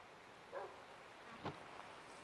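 A dog barks twice, faint and distant, with short sharp yaps about a second apart over a quiet outdoor background.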